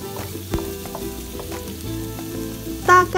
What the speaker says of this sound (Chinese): 先干炒它，五花肉里面的那些油脂肪呢会慢慢的流出来。